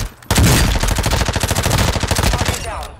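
Warzone combat brings a close, rapid burst of automatic gunfire lasting nearly three seconds, dense and loud, with no voices over it.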